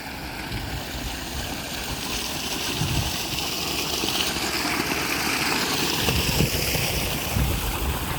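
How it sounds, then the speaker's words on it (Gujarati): Irrigation water flows steadily from a canal into a bajra field, a continuous rushing, gurgling wash heard close and alone, without pause for the whole stretch. "ડાયરેક્ટ ધોરામાંથી આવે રૂ પાણી."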